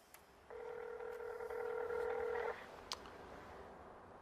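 A telephone dial tone sounds as a call is placed, one steady two-second tone with a few faint clicks before and after it in a quiet room.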